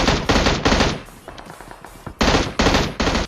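Bursts of VSS rifle fire in a shooter video game, loud rapid volleys at the start and again near the end, with quieter scattered shots and clatter in between.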